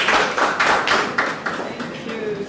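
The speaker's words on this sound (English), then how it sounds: "A round of applause." A modest round of applause greets an honored guest at a trade and investment website launch event in Ghana. A few loose clusters of claps rise and fall over about two seconds, with some voices underneath.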